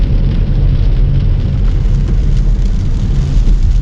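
Rain drums steadily on a car moving along a road in East Tennessee, mixed with a deep road and engine rumble, loud and continuous with no voices.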